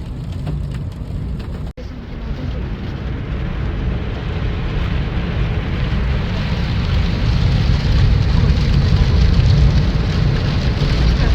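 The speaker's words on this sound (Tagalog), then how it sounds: "Lakas na ng ulan. Lakas na ng yelo." Heavy rain pours in Japan with hail or ice pellets falling, a dense, steady roar that builds slightly louder over the clip after a brief dropout near the start; no one speaks.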